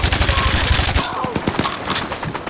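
L110 light machine gun in a Battlefield game fires a fast, loud burst of rounds, followed by a few separate shots with echoing tails.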